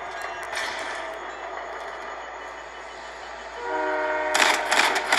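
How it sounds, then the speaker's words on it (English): A train in Fortnite rumbles closer with a steady mechanical roar, then its horn sounds in sustained tones as the noise swells loud near the end, with no talking over it. "And the train's coming though."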